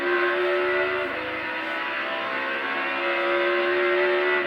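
NASCAR stock cars racing at St Louis Raceway Park late in stage 2, a steady, loud engine drone sustained throughout with a faint shifting roar as cars pass.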